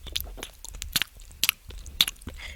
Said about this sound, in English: Chewing Smacking sounds.